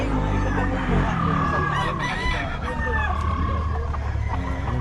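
A Sweater-breed gamecock rooster crows repeatedly at close range, its calls overlapping with other fowl clucking and crowing nearby, while people talk in the background.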